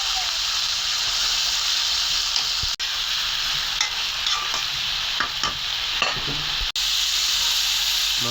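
Fish curry with potato and tomato sautéing in a pan with ginger and garlic, a loud continuous close sizzle and hiss with scattered stirring scrapes and spatters throughout.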